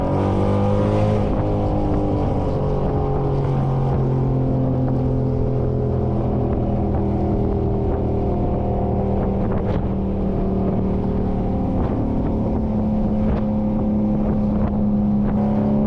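A cammed widebody Dodge Scat Pack's engine pulls through its power band on a boulevard, a loud, constant deep drone with layered harmonic tones and wind rush heard from inside the car for the full stretch.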